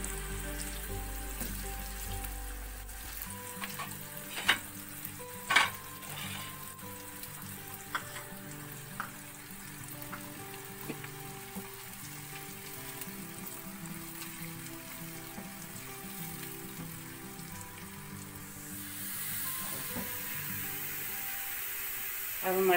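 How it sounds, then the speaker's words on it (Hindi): Onions fry in a pan for bhuna dal, giving a steady low sizzle with scattered clicks and taps from utensils. The sound stays fairly quiet throughout. "प्याज फ्राई कर लेंगे और प्याज फ्राई कर लेंगे हम।"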